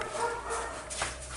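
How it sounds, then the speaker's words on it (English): Dogs bark faintly in the distance beneath a steady noisy background while a Mercedes is being repaired, in short, muffled bursts. "Sorry about the dogs in the back."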